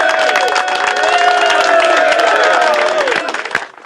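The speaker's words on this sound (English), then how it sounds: "Thank you for that resounding applause" Loud, sustained applause and cheering from a live audience at an excavator battle show, steady for about three seconds before tapering off near the end.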